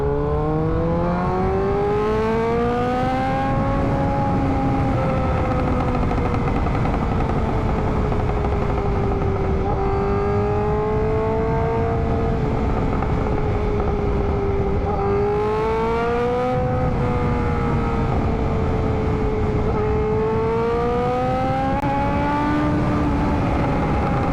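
Honda CBR 1000RR-R sportbike revving up and down in several long sweeping rises and falls, its exhaust loud and close throughout, with crackling pops riding on the throttle blips.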